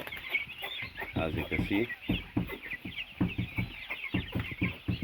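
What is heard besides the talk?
young farm chickens clucking in a pen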